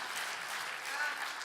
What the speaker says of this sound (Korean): 하나님께 영광의 박수를 돌립시다.